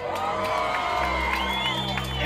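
A crowd at a live urban music show cheers, whoops and shouts over loud bass-heavy music, a dense continuous roar close around.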